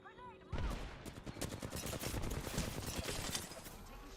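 Gunfire erupts abruptly in a shooter video game, loud sustained bursts of rapid automatic shots rattling for several seconds after a quiet start.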